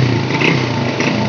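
SYM RV1-2 motorcycle fitted with an SLV carburetor from an XRM 110, engine running at a steady idle with an even, close putter and slight rises in pitch.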